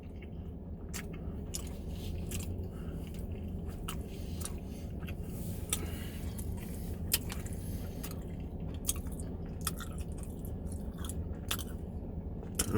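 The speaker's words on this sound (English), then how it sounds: "An early little munch down for me." Food being chewed close to the microphone during an early lunch in a truck, steady moist squishing and biting with occasional crunches over a constant low engine-like rumble, no talking.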